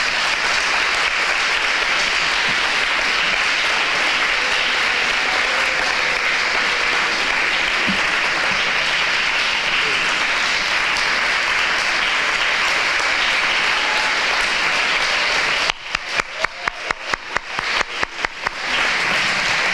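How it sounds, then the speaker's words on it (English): Sustained loud applause from an audience at an award ceremony honoring a Trailblazer Award winner, steady dense clapping that breaks into scattered final claps near the end. "let's give them again a round of applause"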